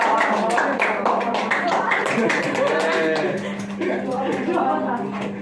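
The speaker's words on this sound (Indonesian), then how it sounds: "tepuk tangan kepada kedua" Applause in a school classroom during a fiqh lesson, with students clapping in a dense patter for several seconds while voices talk and chatter underneath.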